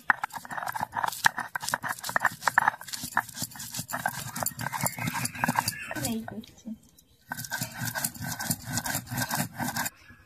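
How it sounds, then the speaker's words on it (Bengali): Ginger, garlic and green chili are ground by hand on a grinding stone: fast, rhythmic scraping strokes rasp close by. A short pause midway carries a brief voice before the grinding starts again. "এইভাবে আদা রসুন আর কাঁচা লঙ্কাটা ভালো করে বেটে নেব।"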